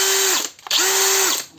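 A SHARKPRO ARCTIC 190 cordless screwdriver runs in two close bursts: a loud, steady high motor whine that spins up, holds, cuts out briefly with a click, then whirs up again and winds down, with no one talking.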